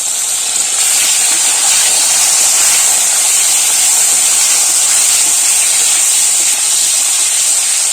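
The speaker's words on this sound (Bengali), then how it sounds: "এবার টমেটোগুলো দিয়ে দেবো" Tomatoes going into a pan of frying potatoes for a Bengali home-cooked dish, bringing on a loud, dense hiss of steam and sizzle that holds steady and close throughout, with no voices.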